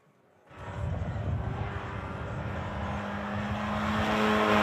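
A race car, the number 34, runs on a track during a timed session, its engine building from a faint start into a steady, loud roar that keeps growing louder toward the end.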